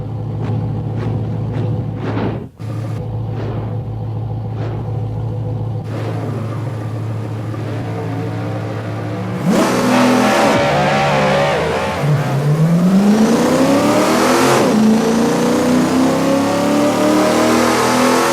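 A Corvette engine idles with a steady low rumble, cuts briefly, then roars into loud revving and hard acceleration with rising pitch sweeps and a gear-change dip, near and dominant with no talk.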